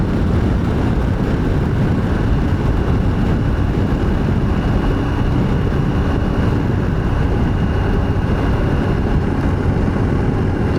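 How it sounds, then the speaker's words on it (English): Strong wind blows steadily outdoors in the open country around Wilpena Pound, a loud, continuous buffeting roar with no pauses or other sounds over it. "Geez, there's some bloody wind picked up out here"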